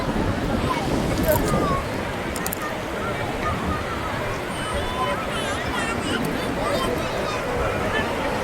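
Strong wind buffets and roars steadily at the seashore, blended with rushing water and distant indistinct voices.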